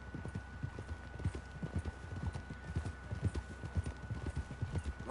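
Horse hooves clip-clop at a steady walking rhythm in the Red Dead Redemption 2 game world, close and clear, with a faint whinny and soft background ambience.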